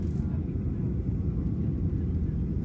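Continuous low drone of an airplane in flight heard from inside the cabin, a steady rumbling hum without breaks and no clear talk.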